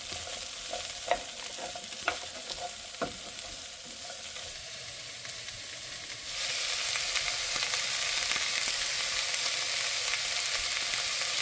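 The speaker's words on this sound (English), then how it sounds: "I'm going to saute this" Onion and carrots sautéing with a pinch of salt in a pan, a steady bright sizzle with scattered stirring clacks early on, then the frying hiss swells louder and denser partway through and holds there, no voices.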